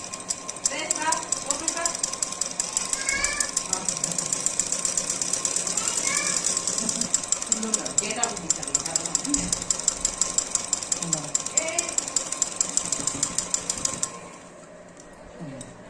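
A sewing machine stitches blouse fabric with a steady, fast mechanical rattle that runs close and loud for about fourteen seconds, then stops, while someone talks over it.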